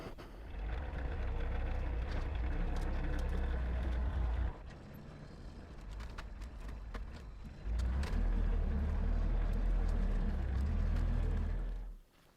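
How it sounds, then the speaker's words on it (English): A tractor engine drones loudly and steadily as its bucket shoves a small poplar snag over a hill of West Virginia clay, dipping briefly midway before revving back up and cutting off at the end. "I'm just going to take it, the tractor bucket, and shove this little poplar snag over the hill"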